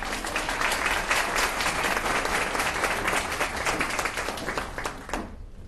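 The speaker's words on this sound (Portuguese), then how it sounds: "Palmas para ela, por favor." A lecture audience at a talk on architecture and urbanism in São Paulo applauds steadily, many hands clapping in a dense, continuous patter that drops off abruptly at the end.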